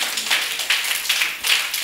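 A few scattered hand claps for a coach at the close of a professional coaching talk, light and uneven, with short bursts over a quiet room.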